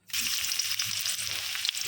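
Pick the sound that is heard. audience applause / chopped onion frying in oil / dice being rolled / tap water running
chopped onion frying in oil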